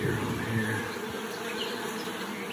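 Honeybees in a nucleus colony hive give a steady, fairly soft buzzing drone throughout, with no voices over it.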